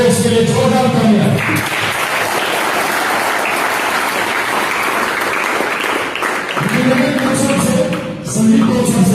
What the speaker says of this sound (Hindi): जो बोले उसके लिए जोरदार तालियां